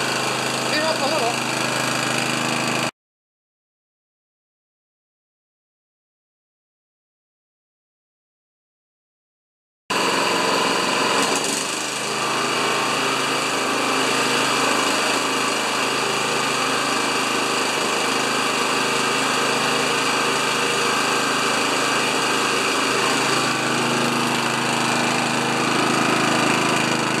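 A Honda HRA214 walk-behind lawn mower engine runs loud and steady at close range, cuts out briefly, then returns as the throttle is nudged up near the choke setting, holding a constant buzzing drone.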